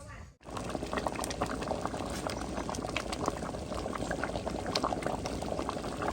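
A pot of water bubbles at a rolling boil for bamboo shoot soup in a home kitchen, with a continuous dense gurgling that holds steady after a brief dip at the start.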